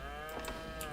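A cow lows in Farming Simulator 22, one short sustained harmonic moo that is moderately quiet and heard alone.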